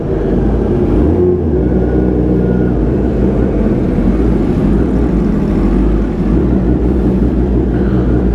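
A vehicle is driven off for a ride at dusk, its engine running loud and steady throughout with a low rumbling drone and no talking.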